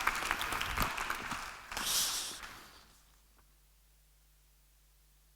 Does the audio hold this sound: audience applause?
yes